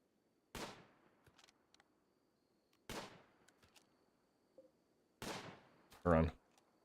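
Rifle shots in the colony-sim game Rimworld as a slow, injured raider is kited away: three sharp isolated cracks a couple of seconds apart, followed by a louder burst, over a quiet background.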